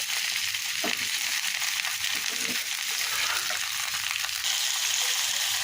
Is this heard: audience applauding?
no